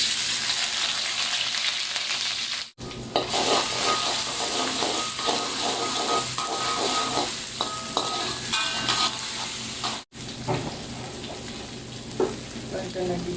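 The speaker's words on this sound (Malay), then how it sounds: "Bila minyak dah panas, tumiskan dulu bawang merah, bawang putih dan daun kari." Shallots, garlic and curry leaves fry in hot oil for a crispy potato curry puff filling, giving a loud, steady close sizzle with faint stirring and two brief drops in the hiss.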